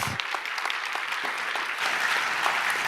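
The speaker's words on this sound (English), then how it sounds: "Actually clap" An audience applauds at the opening session of the Innovate4Climate 2018 conference: distinct claps build into a fuller, steady applause that grows slightly louder toward the end.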